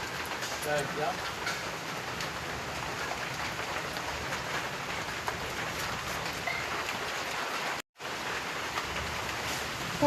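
Heavy, steady rain hisses across a rooftop, a dense wash of noise with a brief dropout near the end.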